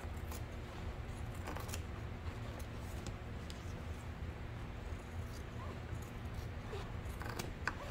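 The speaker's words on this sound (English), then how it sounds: "I'm always trimming down the interfacing. So let's trim down the back." Scissors trim down fabric interfacing for a tote bag, heard as faint, intermittent snips over a steady background hum, with no talk.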